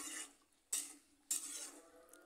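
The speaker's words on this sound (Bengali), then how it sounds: "সর্ষে দিয়ে চিমগুলো ভালো করে নাড়িয়ে চাড়িয়ে নিচ্ছি।" Flat beans coated in a mustard and poppy seed paste are stirred in a pan, giving a few soft scraping strokes at a steady pace. The sound is faint and close, with quiet gaps between strokes.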